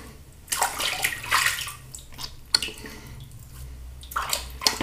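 Water splashes and rinses shaving soap off a face in bursts, with a steady tap-like flow between the louder splashes, close and fairly loud.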